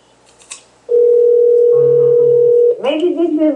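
A telephone tone rings out loud and steady for nearly two seconds while a home phone is being called, with a second lower tone joining briefly. A voice starts talking as it stops.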